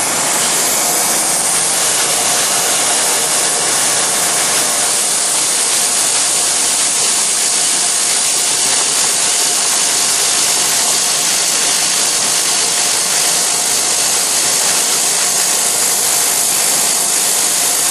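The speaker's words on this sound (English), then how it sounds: "Using a 1/2 inch diameter cutter to mill a 3/4 inch wide slot." A milling machine with coolant running cuts a 3/4 inch wide slot using a 1/2 inch cutter, giving a loud, steady broadband hiss and whir that holds unbroken throughout, with a faint tonal hum underneath.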